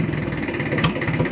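A modified Mahindra 475-DI tractor diesel engine fitted with a mesh silencer idles with a steady, low, even thrum for a brief moment, heard close and without speech.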